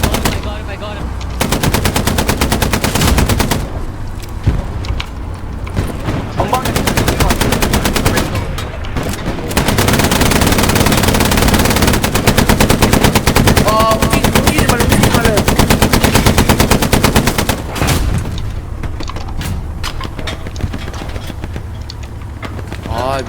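Heavy automatic gunfire and rifle shots from the WWII shooter Hell Let Loose crackle in dense, near-continuous bursts with brief pauses. A voice is also heard among the shooting.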